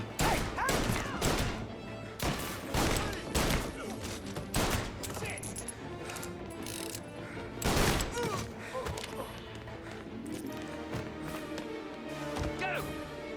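A rapid fusillade of gunshots rings out in the crime game Mafia, dense bursts of shots and impacts coming in clusters, with shouted voices mixed in among the firing.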